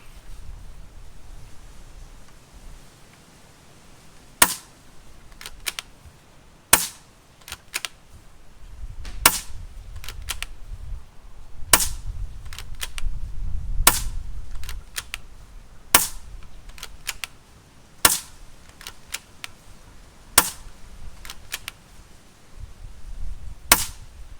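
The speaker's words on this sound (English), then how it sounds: "So let's get 10 shots down the range." A Weihrauch HW110 multi-shot pre-charged pneumatic air rifle fires ten sharp, close shots at irregular intervals of a few seconds, with soft handling rustles and low rumble between them and no talking.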